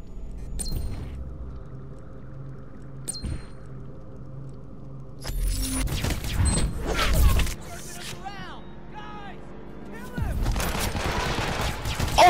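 Gunfire in the stealth-action game Hitman: Absolution, with sharp isolated shots early on, then dense bursts and fusillades mixed with game effects and a tense score, while someone talks over the action.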